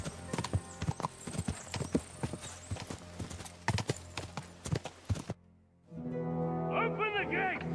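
Horse hooves clip-clop in a brisk, uneven rhythm on hard ground in the video game Kingdom Come Deliverance 2, close and clear, with brief spoken lines and a horse's whinny after a short pause.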